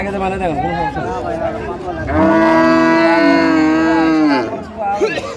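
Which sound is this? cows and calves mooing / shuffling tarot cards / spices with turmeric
cows and calves mooing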